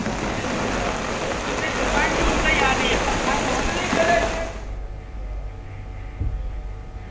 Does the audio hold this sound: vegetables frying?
no